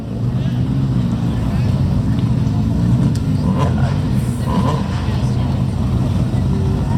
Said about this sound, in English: So the first one going is the Mclaren Artura.